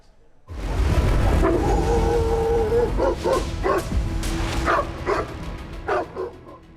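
Stray dogs bark and yip repeatedly in a loud, close series of sharp barks, with whimpering and howl-like cries mixed in over steady background noise.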